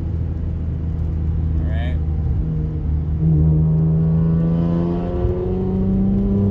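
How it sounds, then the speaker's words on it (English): Infiniti Q60 engine with a modified exhaust fully open, a deep steady rumble heard from inside the car while driving on a wet road, rising in pitch as it accelerates. "this is with my exhaust all the way open"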